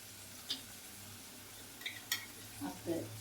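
Onions fry in a pan toward golden for an onion capsicum gravy. A quiet, steady sizzle runs underneath, broken by a few soft spoon scrapes and taps from stirring.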